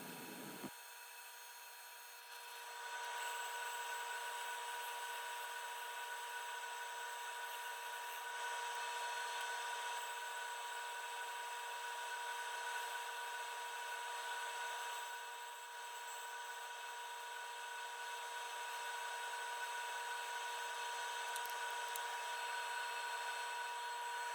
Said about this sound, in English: You are going to watch some sanding.